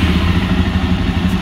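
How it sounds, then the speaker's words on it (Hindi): A Jawa 42 Bobber motorcycle engine runs close by, a loud, steady low rumble with a fast rhythmic thrum and no talking. "बाइक को स्टार्ट करते हैं।"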